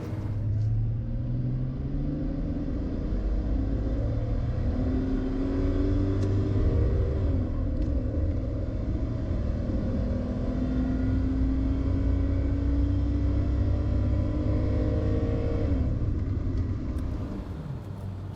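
A first-generation Toyota Cressida accelerates hard at full throttle, its engine note climbing steadily through the revs in a loud, continuous, close-up roar with no talking.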